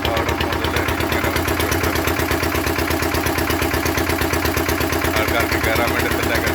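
A boat engine idles steadily at a river crossing on the India–Bangladesh border, with a continuous low, rhythmic chugging throughout and voices audible over it.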